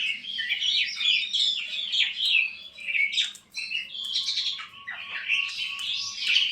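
A Bali myna gives a run of bright, varied chirps and whistled calls, fairly close, continuing almost without pause over a faint low hum.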